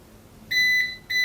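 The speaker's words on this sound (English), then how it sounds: "And it's beeping. That means it's powered from the battery." A UPS (uninterruptible power supply) running on battery gives two loud, close electronic beeps, each lasting about half a second, over a quiet background.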